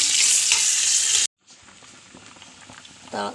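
Onions fry in hot oil to temper a mackerel fish curry. A loud, bright sizzle cuts off abruptly, then returns quieter with light bubbling and a brief clink near the end.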